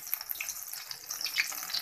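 Chicken broast piece sizzling in hot oil over a medium flame, giving a steady bright crackle and hiss with small pops, close and fairly quiet, no voices.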